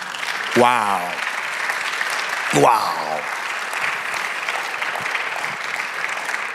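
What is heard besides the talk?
church congregation applauding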